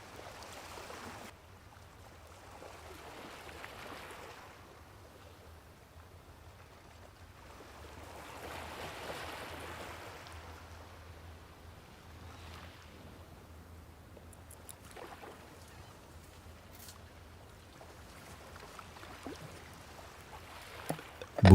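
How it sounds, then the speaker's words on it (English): Soft, continuous flowing water with gentle swelling waves drifts through a calm meditation setting, rising and falling in slow surges over a low steady hum. "Needs lots of water sound."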